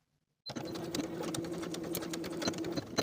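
A sewing machine starts abruptly and runs at a steady, fast buzzing pace, stitching the bottom edge of a denim fly shield up close.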